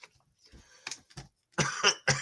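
A few short, harsh coughs close to the microphone, spaced out and then bunched into a louder burst toward the end.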